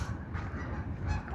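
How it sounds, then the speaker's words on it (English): Geese honk repeatedly in a brief, close cluster of calls outdoors along a jogging route, heard alone without talk. "Look at these geese getting after it."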